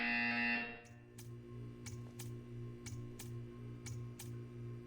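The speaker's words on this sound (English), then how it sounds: "You will hear a buzzer. When you hear the buzzer, stare at the art." A test-chamber buzzer in the video game Portal 2: a loud steady electronic drone that cuts off, then a series of sharp, evenly spaced ticking pulses over a low hum.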